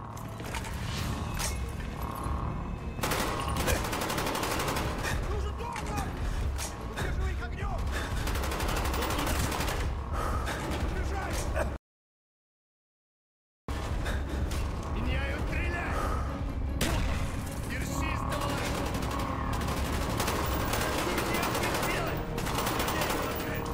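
Heavy gunfire in Call of Duty Black Ops: sustained loud automatic bursts with dense overlapping shots, broken by a brief silent gap. Voices talk over the fire.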